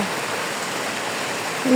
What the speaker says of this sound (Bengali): আমাদের এই জায়গায় কি পরিমাণে বৃষ্টি হইতেছে